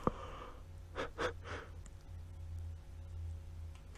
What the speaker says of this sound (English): Excuse me while I yawn.